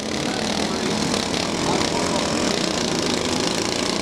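A lawn mower engine drones loudly and steadily during a lawnmower event at a demolition derby, a continuous close roar with an announcer talking over it.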